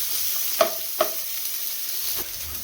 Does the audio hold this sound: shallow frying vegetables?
yes